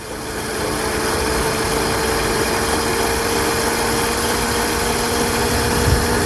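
Car alternator rigged as a bicycle motor, running with a steady, even mechanical whine and hum that holds constant for several seconds, close and fairly loud, with no talking.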